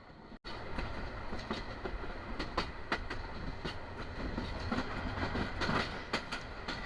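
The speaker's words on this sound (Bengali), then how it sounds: "আমাদের কাঙ্ক্ষিত ট্রেনটি কিন্তু তার আপন গতিতে ছুটে চলেছে" The Teesta Express passenger train rumbles steadily along the tracks in Bangladesh, with recurring clickety-clack wheel beats over a constant roar, heard from inside or close by.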